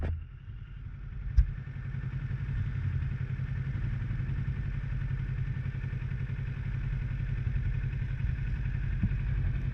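Motorcycle on a Class 6 road test in Burnaby, making a U-turn: a steady, low engine rumble at moderate speed, close and continuous, with one brief clack early on and no talking.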